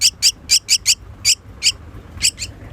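A pet myna gives about ten sharp, bright calls at close range in a quick, uneven series with short gaps between them, and no human voice is heard.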